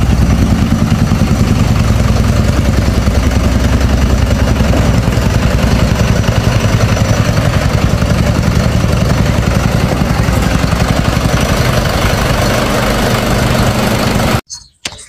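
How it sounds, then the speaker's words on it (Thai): An FM World 704F tractor with a 70-horsepower inline, water-cooled four-stroke engine and an air-conditioned cab runs loud and close in a steady, throbbing idle, then cuts off abruptly near the end. "เครื่องเป็นเครื่องยนต์อินไลน์ระบายความร้อนด้วยน้ำ4จังหวะ"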